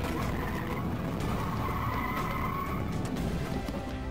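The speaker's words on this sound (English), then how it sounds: "another car jumped the curb between the trees and crashed into him" A car jumps a curb between trees and crashes into a police car, picked up by a security camera: a loud, rough burst of skidding tires and engine noise with a grinding rush that continues throughout.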